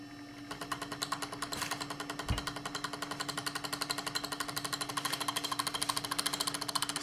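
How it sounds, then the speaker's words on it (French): An Orbo pompom machine runs on a 12-volt supply, its metal lamella vibrating in a fast, steady buzzing rattle that starts up and continues loud and close, with a brief low thump partway through. "la lamelle là, elle vibre beaucoup"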